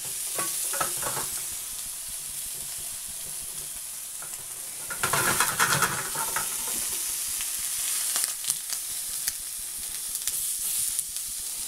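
A homemade beef burger fries on low heat in a cheap new frying pan, giving a constant close sizzle and hiss, with bursts of louder spatter and scraping when it is stirred or moved.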